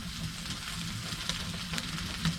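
Moose roast sizzling and frying in a pan on an ice fishing trip in Labrador, a steady close crackle with faint stirring, no talk.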